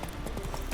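Roach the horse clip-clopping in The Witcher 3, steady hoofbeats on the ground, close and continuous over a short stretch with no talk.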